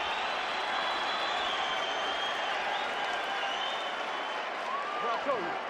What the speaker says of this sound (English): Crowd likes the knockdown, though.